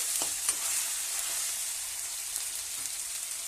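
Onions fry in a pan with salt, giving a steady crackling sizzle close by, with a few light clicks of a spoon against the pan.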